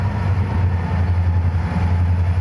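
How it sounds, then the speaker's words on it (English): A Soo Line freight locomotive idles or rumbles along the High Line near Santa Fe Junction in Kansas City, a steady low diesel drone with constant broadband rail noise and no talk. "finally, another train on the High Line."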